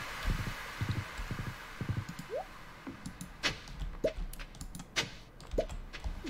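Hooves clip-clop at a trotting rhythm as a horse is ridden in the farming video game Stardew Valley, quiet and even, with light clicks and blips from the game mixed in.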